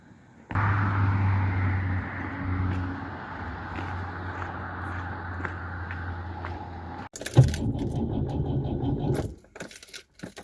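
A car being boarded and started while out checking a flood, keys jangling and clinking close by over a steady low engine hum, then a louder burst of rumbling and rattling near the end.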